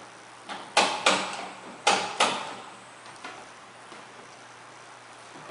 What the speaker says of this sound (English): And then the door will be closed again without electricity.